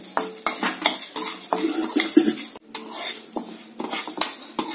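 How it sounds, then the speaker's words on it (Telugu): Urad dal stir-fried in a pan for chutney podi, with a spoon repeatedly scraping and clanking against the metal in an uneven rhythm of stirring strokes, close and moderately loud, no talking. "ఇప్పుడు ఆ ప్లేట్ లోకి తీసుకున్నాక మినపప్పు కూడా వేసుకొని వేయించుకోవాలి."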